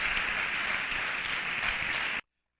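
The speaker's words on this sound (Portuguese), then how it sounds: "Quem crê nisso, dê um aplauso a Ele, bem forte mesmo." Congregation clapping loudly at a church sermon, a full, uniform burst of applause that stops abruptly after about two seconds into silence.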